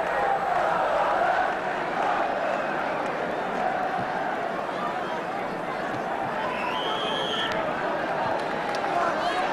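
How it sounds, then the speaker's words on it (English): A football crowd at an Arsenal v Ipswich match in 1978 keeps up a steady roar of applause and noise while a commentator talks over it. "Alan Sunderland getting the applause"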